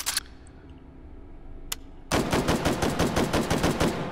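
An M1 Shorty rifle, a cut-down M14, fires in the VR shooter Hot Dogs, Horseshoes & Hand Grenades. A couple of sharp isolated reports are followed by a loud, rapid string of close shots.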